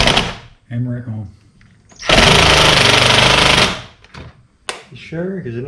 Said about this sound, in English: Hammer it home.